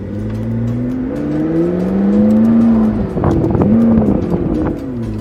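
A McLaren 650S sports car with its top down accelerates hard, the engine note rising loudly and steadily, easing briefly, then climbing again as the car pulls away.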